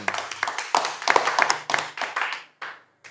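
Hands clapping at an Islamic religious lecture, a small group giving loose, uneven bursts of claps with brief gaps, fading out near the end.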